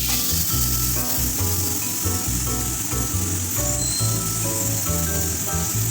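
Ginger and garlic sizzle steadily in a hot frying pan for a chili chicken dish, a loud, continuous hiss with no talking over it.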